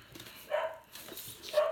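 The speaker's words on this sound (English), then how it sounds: "I'm sorry if you hear my dogs, they see something outside." Several dogs barking indoors at something outside, two or three short bursts of barks at moderate distance with quiet gaps between.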